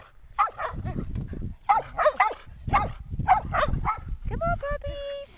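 Young puppies from a litter taking their first trip outside on grass make short whimpers, yips and squeaky little barks in scattered bursts, close by, with a few thin whines near the end.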